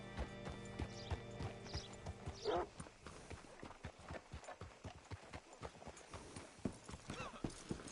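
Horse hooves clip-clopping in Red Dead Redemption 2, a steady run of distinct hoof beats with a brief whinny near the start, heard close over light background ambience and without speech.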